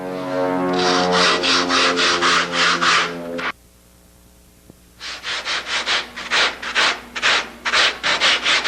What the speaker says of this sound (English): At every stroke of this sandpaper, I stop and take a look.